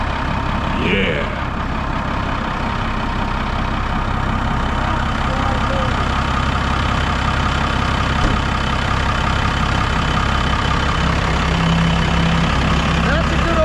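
A first-generation Ram truck's 12-valve Cummins turbo diesel idles loud and close, a steady heavy low rumble running unbroken throughout with no other sounds over it.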